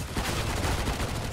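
Rapid bursts of automatic gunfire in CS:GO fill the moment, dense and loud, with repeated shots crackling in quick succession and no speech over them.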